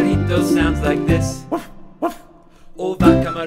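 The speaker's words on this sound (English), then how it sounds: "El perrito sounds like this." A dog barks in short sharp bursts, a few times, set against a lively children's farm song with singing and instruments.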